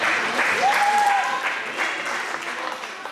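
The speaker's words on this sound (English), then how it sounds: "You clap for my beard, that's awesome." Crowd clapping in a venue audience, a continuous wash of applause across the whole stretch, with a brief tonal sound and faint voices mixed in.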